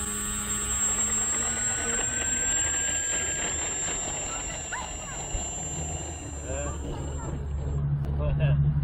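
A Multiplex Funman 3CH trainer RC airplane's electric motor whines steadily at high pitch during a takeoff attempt, holding a sustained tone before cutting off near the end, with someone talking over it.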